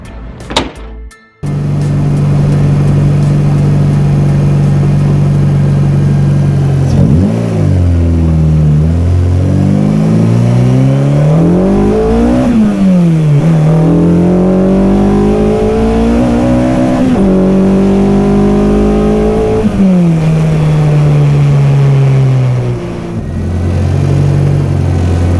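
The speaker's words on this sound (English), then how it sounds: "I'm hoping to kind of get some induction noises and get some good VTEC sounds" A Honda K24 VTEC engine idles loudly, then revs up and down repeatedly, pitch rising and falling in sweeping pulls before settling back to idle, recorded close up at the rear bumper.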